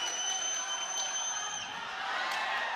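A boxing arena crowd roars after a body shot in a Casimero versus Nghitumbwa bout, a steady broad wash of cheering with scattered whoops, loud and continuous throughout without a break.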